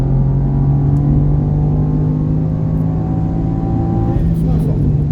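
A car accelerates hard on the Mireval race circuit: a loud, close engine holds a steady droning pitch, then shifts near the end, with a voice talking over it.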